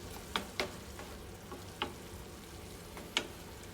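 Kimchi fried rice stirred in a frying pan under a quiet background sizzle, with a handful of sharp spatula scrapes and taps at irregular intervals.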